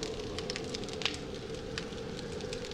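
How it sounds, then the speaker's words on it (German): A fire barrel burns in the survival video game 7 Days to Die, giving a steady roaring hiss with sparse small crackles and pops throughout, close and alone without speech. "Oh, eine Feuertonne."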